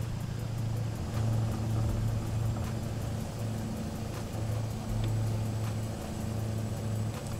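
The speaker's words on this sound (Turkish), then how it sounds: "çok hoşuma gidiyor bu aracın sesi" Continuous close truck engine hum in Euro Truck Simulator 2, with a modded Kurt exhaust, with a low pulsing drone that wavers slightly in pitch, steady and unbroken, no voices.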